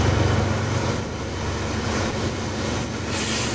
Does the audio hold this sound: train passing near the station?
yes